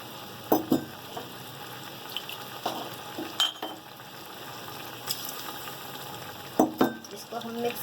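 Coarsely crushed mace and nutmeg stirred into chana biryani masala in a pot, with a spoon scraping and clinking in scattered bursts over a soft, steady frying sizzle.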